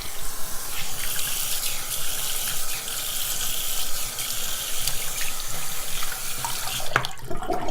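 Tap water runs steadily into a sink while makeup swatches are rinsed off a hand, a continuous close gushing splash with slight shifts as the hand moves through the stream.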